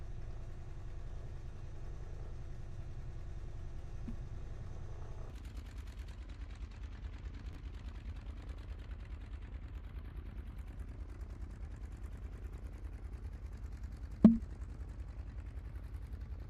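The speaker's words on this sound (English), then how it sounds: "The engine sounds like an old car, man." Piston engines of a PMDG Douglas DC-6 in Microsoft Flight Simulator 2020, idling near the runway with a steady, low, old-car-like throb, shifting pitch midway, with one sharp click near the end.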